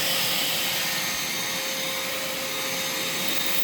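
A Vacmaster 2.5 gallon, 2 horsepower shop vacuum runs continuously with a loud, steady whooshing roar and a constant whine, close by and alone.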